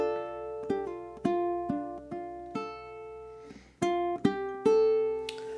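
A single guitar picks a short bar of a riff, notes struck one after another with ringing harmonics, a quick rhythmic figure that repeats its opening and ends in a small walk-up, played alone with no voice over it.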